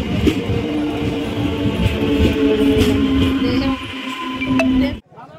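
A train rumbles steadily at a station at night, with a sustained low drone and hum close by, fading into quiet as it departs near the end.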